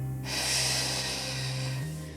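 A long, deep breath drawn in during a deep core and pelvic floor exercise, steady and close for about two seconds, with a low hum underneath.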